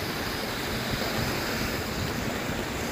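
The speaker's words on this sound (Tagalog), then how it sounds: "At ito yung tubig na umaagos galing sa bundok." Mountain water flowing down from the Dolomites toward the lake at Molveno in the rain, a steady broadband rush filling the whole clip, close and loud with no talk over it.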